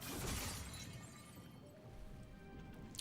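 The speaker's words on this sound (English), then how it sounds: "It has like a glass breaking sound." A glass-shattering effect from the Prismabella skin in a video game bursts loudly at the start, then trails into a shimmering, ringing tail that fades over a few seconds.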